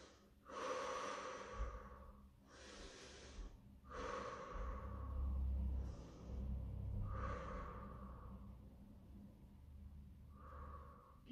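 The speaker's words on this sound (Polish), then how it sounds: "Oddychamy." Heavy rhythmic breathing during a stretching workout: several deep breaths in and out, close and fairly quiet, each lasting a second or two with short pauses between them.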